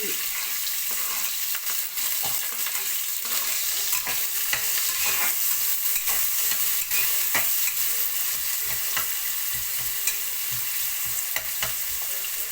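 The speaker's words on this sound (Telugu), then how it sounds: "ఉల్లిపాయ దోరగా వేగాలి" Thinly sliced onions sizzle steadily in hot oil for mutton curry, with repeated scraping stirs of a spoon across the pan, loud and continuous throughout with no talking.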